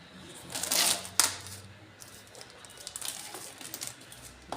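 A toner cartridge for a Samsung CLX-6260FD color laser printer being handled, with close plastic scrapes and rustles, a sharp click, then softer scattered taps and knocks.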